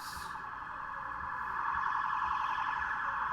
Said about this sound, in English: There, as promised, there goes an ambulance.